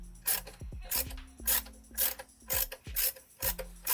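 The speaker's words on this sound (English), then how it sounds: "I like using these little short-handled ratchets" A short-handled ratchet tightening a bolt in a repaired stripped thread, close, crisp rhythmic clicking in repeated short strokes, each swing a quick burst of pawl ticks followed by a brief pause.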